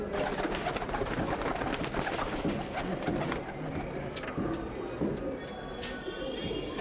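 English Tippler pigeons coo in low, repeated murmurs within a dense, noisy pigeon loft, with a steady busy background and faint talk mixed in.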